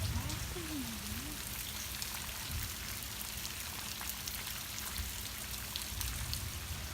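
Summer rain falls steadily outdoors, a soft, even patter of drops on surfaces that stays constant and fairly quiet from start to finish.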